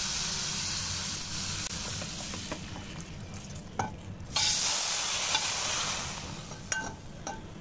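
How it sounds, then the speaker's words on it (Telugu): Hot tempering poured into a turmeric mixture in a kadai with the stove off, giving a steady close sizzle with stirring and a few light clinks, no voices. "ఇప్పుడు ఈ తాలింపు ఈ పసుపులో వేసేసుకోవాలి"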